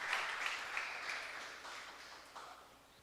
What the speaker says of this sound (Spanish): Hónrelo con un aplauso al Señor.